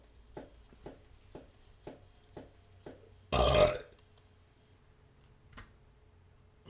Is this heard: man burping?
yes